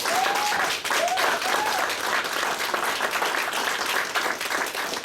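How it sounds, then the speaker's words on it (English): Steady applause from an audience at a multicultural parents forum honoring the candidates, a full, continuous patter of many hands clapping, with a few faint voices mixed in. "I want to ask for a round of applause for all of our candidates here tonight."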